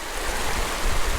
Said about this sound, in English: The water comes in to the pool from the side.